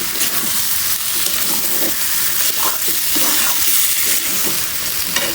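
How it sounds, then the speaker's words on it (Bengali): Beef liver frying with spices in a pan, a loud continuous sizzle with scraping stirs mixed through, heard close up with no voices. "মশলা দিয়ে দিলাম কষাই নেবো"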